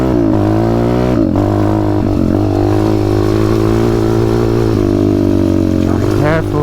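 Triumph Tiger 900 motorcycle with a quarter-turn quick-action throttle, its engine loud and near, holding a steady drone with small pitch shifts while someone talks over it.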